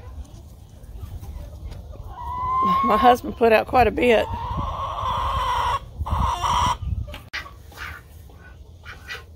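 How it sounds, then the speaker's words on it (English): Chickens cluck and cackle close by in a coop while someone talks over them, with the bird calls rising in a busy burst midway. "That's my chicken."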